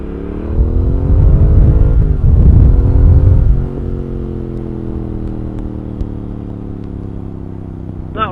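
A Triumph Speed Twin motorcycle pulls hard in second gear, its engine rising in pitch under load, then easing back after a gear change to a steadier drone with some wind rumble.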